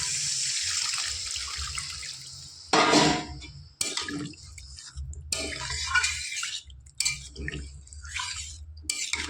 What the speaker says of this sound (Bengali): এবার দিয়ে দেবো পরিমাণ মতো জল ঝোলটা